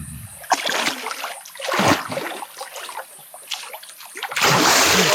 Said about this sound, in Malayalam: തണുത്ത വെള്ളത്തിലേക്ക് ഞാൻ മുങ്ങാൻ പോകുന്നതിൻ്റെ അസുലഭമായ ദൃശ്യങ്ങളാണ് നിങ്ങൾ കാണാൻ പോകുന്നത്